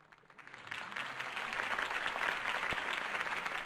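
Crowd applause after a campaign speech in the Batman Telltale Series video game rises from quiet into a broad, sustained wash of clapping from a large audience, steady and moderately distant.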